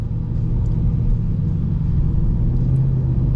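The V8 engine of a 2025 Ford Mustang GT in sport mode gives a steady, deep rumble heard from inside the car, with its low drone building slightly as it prepares to accelerate.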